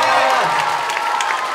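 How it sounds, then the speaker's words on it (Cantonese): Applause and crowd noise for cosplay cover dance performers, a dense continuous wash of clapping with some cheering, loud and close, lasting only a moment with voices mixed in. "可唔可以俾一次掌聲佢哋？"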